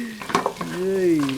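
Lamb kaldereta being stirred and sizzling in a pan, with brief scraping clatter, then a rising and falling tonal squeak from the utensil over the steady frying hiss.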